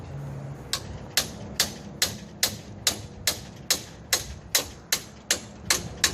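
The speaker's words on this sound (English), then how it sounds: "Let me get a hammer. A medium-sized hammer, anyway." A medium-sized hammer taps on the seized engine of a 1960 Cushman Trailster, giving about thirteen sharp, close metallic knocks at a steady, roughly half-second rhythm, with no talking.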